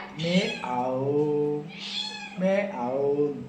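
A cat meows up close in three long, drawn-out calls with short pauses between them, loud and plaintive, in an indoor home setting.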